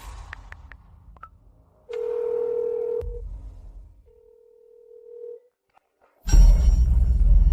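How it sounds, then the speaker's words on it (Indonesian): A telephone call being placed to a boyfriend: a few short dial beeps, then a long steady tone, a pause and another tone, followed by a sudden burst of loud noise at the end. "Aku mau telepon pacarku"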